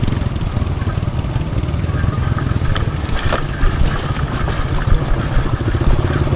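A motorcycle engine runs steadily and loudly up close, a continuous rough, throbbing drone with a slight clatter that never lets up.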